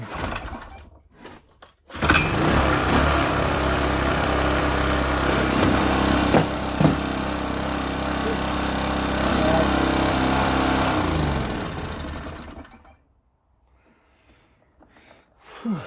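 A generator with no power output pulls into life and runs steadily at close range for about ten seconds, its engine note rough and loud, then cuts out and falls quiet.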